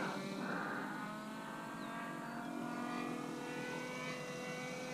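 A nitro-powered RC vehicle makes a high-speed pass, its high engine whine and buzzing harmonics sweeping steadily across the whole stretch, fairly distant and continuous with a faint rise and fall in pitch.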